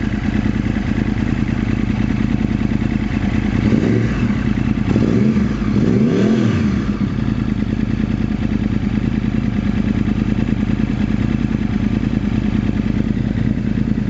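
A 2009 Yamaha R1 motorcycle engine idles loudly and steadily, with a few brief revs rising and falling partway through, then settles back to a constant rumble.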